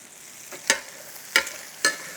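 Aromatics sweat in hot oil for Filipino adobo, a soft steady sizzle broken by three sharp utensil scrapes and clacks against the pan, close and spaced evenly apart.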